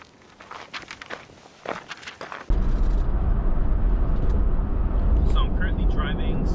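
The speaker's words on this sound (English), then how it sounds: "I'll install a sound clip of the interior of the vehicle to show you guys what it sounds like going 60 miles per hour." Interior cabin noise of a 2021-2024 Ford Bronco cruising at 60 mph: a steady, loud broadband road and wind roar that swells in abruptly and holds constant, preceded by some brief rustling and handling noise.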